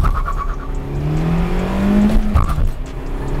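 A Honda car accelerates hard with wheel hop, its engine note climbing loudly and close, with a shuddering chatter and a brief tire squeal near the end.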